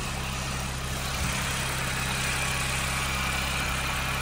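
A Suzuki Jimny idles in Yakutia with a steady, even low hum that holds constant and close throughout, with no voices.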